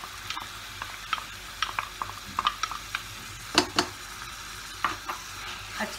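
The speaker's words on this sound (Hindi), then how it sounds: "मसाले को बाजरा के साथ अच्छे से मिक्स करें" Boiled bajra millet gets mixed with spices in a pan, a spoon clinking and scraping against metal in irregular bursts over a low, steady sizzle.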